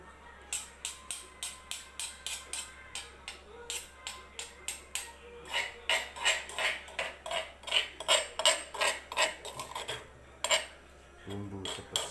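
A metal spoon and cutlery clink and scrape repeatedly in a quick, uneven rhythm while cooking spicy eel, close by, with a faint low hum beneath.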